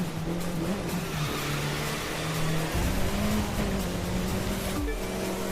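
A race car in The Crew 2 slides off-road, its engine droning steadily with shifting revs and a hiss of tyre noise, loud and continuous throughout with no talking.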